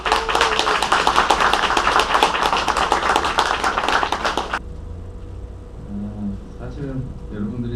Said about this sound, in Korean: 권상윤 법무사님을 뜨거운 박수로 맞이해 주십시오.